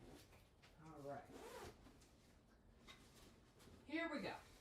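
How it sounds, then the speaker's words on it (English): Zipper on the zippered leader of a long-arm quilting machine is pulled in short scratchy bursts, faint and close, alternating with someone talking. "Because I just zip it off."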